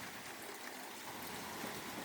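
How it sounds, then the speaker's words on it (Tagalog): Heavy morning rain that is beginning to ease, falling steadily as a dense even hiss of drops on surfaces, soft and constant with no voices. "napakalakas ng ulan, pero medyo humihina na po"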